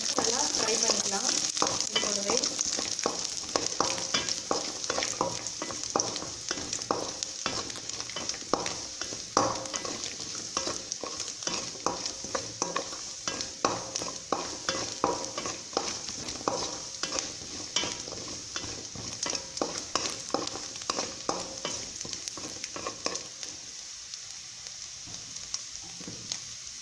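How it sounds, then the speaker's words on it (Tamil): Cashews, three cloves and cardamom fry steadily in a pan for jackfruit payasam, a continuous close sizzle with frequent stirring scrapes that eases off slightly near the end. "அடுத்தது முந்திரி, மூணு லவங்கம், ஏலக்காய், இப்போ இதை வந்துட்டு நல்லா ஃப்ரை பண்ணிக்கலாம்."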